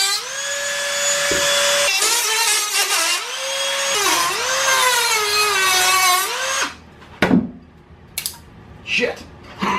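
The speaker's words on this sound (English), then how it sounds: "let's go over and get the Dremel and cut this thing up" A Dremel rotary tool cuts through a plastic fan housing with a loud, steady high-pitched whine whose pitch sags as the bit bites. It cuts off near seven seconds, leaving a few brief knocks and rustles.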